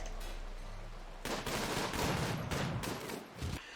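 Turret gunfire during a raid in the video game Rimworld, a dense burst of rapid shots that begins about a third of the way in and continues loud and steady to the end.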